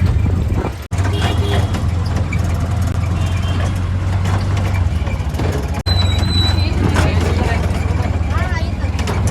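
Steady low engine drone with road rumble throughout, interrupted by two brief dropouts, as voices talk over the ride.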